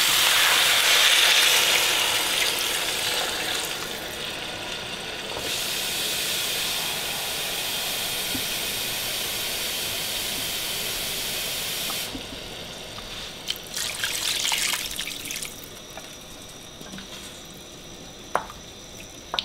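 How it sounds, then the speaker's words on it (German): Water poured over meat in a cooking pot for tzimmes makes a loud, steady hissing rush that eases and changes tone partway through, followed by quieter scattered splashes and clinks with no talk. "verdeckt die ganze Sache mit Wasser"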